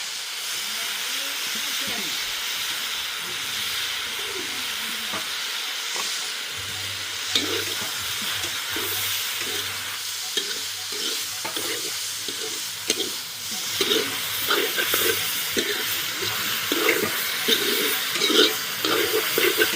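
Food fries in oil in a pan with a steady, soft hiss and sizzle, broken by scraping stir strokes and clicks of a spoon that grow busier toward the end.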